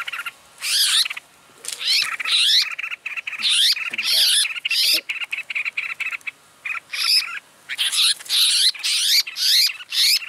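A red-whiskered bulbul calls beside a bird trap, giving repeated bright, warbling chirps in quick bursts that run almost nonstop, loud and close.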